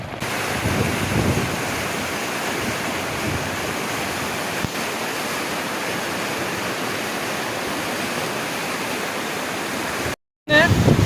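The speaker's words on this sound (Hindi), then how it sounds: "ये वो आपके सामने आबशार है और इसका ये ज़िगज़ैग होता हुआ पानी यहाँ तक आ रहा है" Zigzagging waterfall in Kumrat Valley's mountain forests, a loud, steady broadband rush of falling water filling the whole stretch, close and unbroken until a brief cut near the end.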